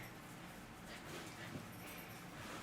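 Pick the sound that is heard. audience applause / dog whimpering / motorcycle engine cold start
dog whimpering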